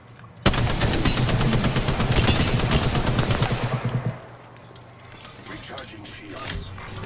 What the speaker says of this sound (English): I'm gonna start firing